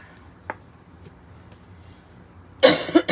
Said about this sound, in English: excuse me for coughing like that.